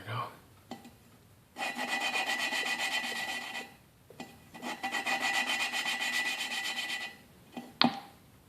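A suction tool works a valve against its seat in a 1995 Royal Enfield Bullet 500 engine, giving two long, close, gritty rasping rubs separated by short pauses, plus a few sharp clicks. No voices are heard.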